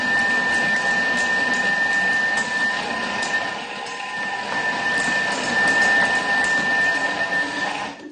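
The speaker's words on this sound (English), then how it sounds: "We don't want it to turn into a smoothie, we just want it to be very well blended together." A Thermomix whirs steadily as it blends a piña colada ice cream mixture, a loud, continuous close motor hum with a faint high whine, no talking.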